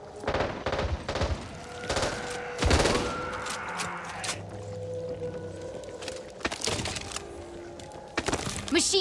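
Machine gun fire in the Back 4 Blood game comes in several loud, sharp bursts of rapid shots separated by short pauses, with game ambience between them.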